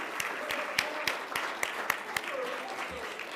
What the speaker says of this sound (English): please stand up and we'd like to give you a round of applause